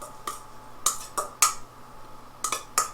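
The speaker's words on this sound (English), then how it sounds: "Add in some pepper. And then all we do is stir it up." A utensil stirs Cajun-seasoned chicken with garlic salt and pepper in a metal pan, giving about seven sharp, irregular clinks and scrapes, close and fairly quiet, with no talking.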